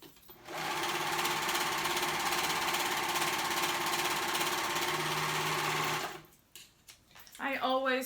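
A sewing machine stitches along raw fabric edges in one continuous loud buzzing run of about five seconds, stopping abruptly before a voice speaks.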